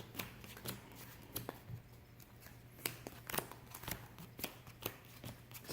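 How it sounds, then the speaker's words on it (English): Magic: The Gathering cards being shuffled by hand, a run of crisp riffling bursts and soft card slaps repeating irregularly over several seconds, close and clear with no talking. "we're gonna be shuffling up, and we will roll to see who goes first"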